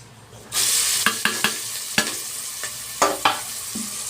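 Curry leaves and onions hit hot oil and burst into a loud sizzle that settles into steady frying, broken by sharp spatula knocks and scrapes against the pan at irregular intervals.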